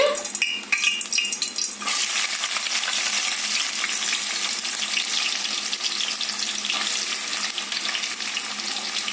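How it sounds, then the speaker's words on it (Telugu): Chopped onions drop into hot oil seasoned with cardamom and cloves. A sudden hiss swells into a loud, continuous close sizzle, with some scraping of the pan early on. "వేడయ్యాక మనం కట్ చేసుకున్న ఉల్లిపాయ ముక్కలు వేసుకుందామండి"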